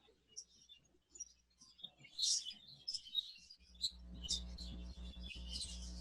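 Budgerigars chirp and twitter in quick, scattered bursts, with a low steady hum rising in the background partway through.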